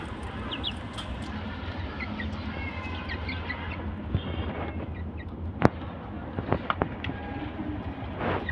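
Hens and a rooster kept on a rooftop of a rented house cluck softly and continually against steady outdoor background noise. A few sharp, brief sounds stand out near the end. No one speaks.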